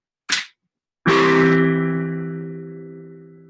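A piano plays a single C/E split chord, C in the top hand over an E in the bass, struck once loudly and left to ring and slowly decay. A short faint noise comes just before it.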